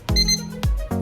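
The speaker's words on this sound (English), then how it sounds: "2 beep means now you are in single user mode." An APO DK-9520 keypad lock sounds electronic tones, with a strong harmonic beep near the start, a short second burst around the middle and another at the end, close and clear with no talking.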